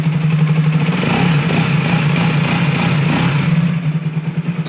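Bajaj Rouser motorcycle engine running after being started: a steady, loud, close idle drone with a constant low hum and a faint rattling texture, no talk.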